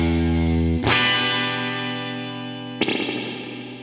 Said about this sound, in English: you can double tap the switch here to crash the spring reverb tank